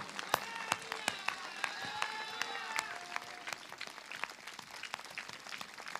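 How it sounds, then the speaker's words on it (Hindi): Faint, scattered clapping from a church congregation during worship, distant and sparse, with a sung or drawn-out voice and murmur behind it. "जोरदार तालियों के साथ ये वेलकम परमेश्वर का है।"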